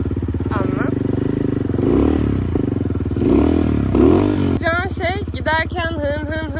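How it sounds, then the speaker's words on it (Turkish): A motorcycle engine runs close by and is revved with light throttle, a steady rumbling drone with small rises and falls while people talk over it. "Şimdi motoru çalıştır. Şuradan değil mi? Hı hı. Sonra Evet. Hafif bir gaz ver."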